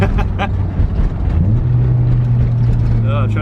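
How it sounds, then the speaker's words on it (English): Honda S2000 engine revving up during a one-handed downshift rev match, a rising engine note climbing and then holding steady over continuous road and wind noise inside the car. "Trying to downshift and rev match with one hand is a pain."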